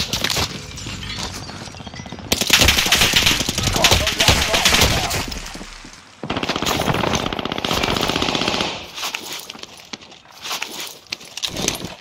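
Video game gunfire in a multiplayer shooter: dense, continuous bursts of automatic weapons fire and explosions, loud and close, with brief gaps and players talking over the action.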